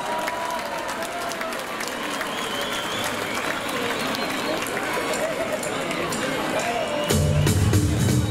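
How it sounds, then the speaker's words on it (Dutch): Crowd applause greeting a singer's entrance at a Flemish kermis performance, sustained steady clapping with a murmur of crowd babble under it, followed at the end by a louder burst of music or voice. "Geef me daar een applaus."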